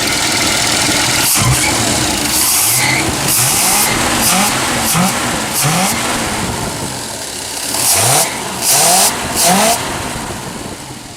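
A 1956 Lincoln Premiere engine fitted with Holley Sniper EFI revs repeatedly in close, loud bursts, rising and falling several times over a steady running idle.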